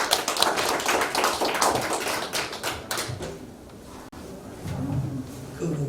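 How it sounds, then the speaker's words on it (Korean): Audience clapping for a pastor at a world mission forum, a dense patter of hand claps that thins and fades after about three seconds, leaving a low murmur. "우리 박수 한번 해주세요"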